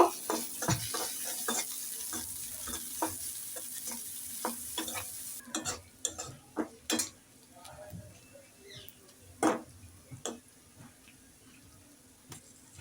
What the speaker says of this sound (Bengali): এখন আমি কড়াইতে কিছু পরিমাণ তেল দিয়ে দিলাম এখন পেঁয়াজ কুচি দিয়ে দিলাম পেঁয়াজটাকে হালকা ভেজে লালচে কালার করে নেব